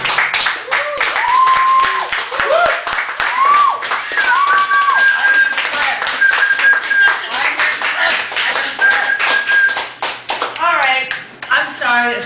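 Scattered clapping and some cheering from a small cafe audience in Chicago after a poetry reading, the applause only moderate and soon fading beneath someone talking over it.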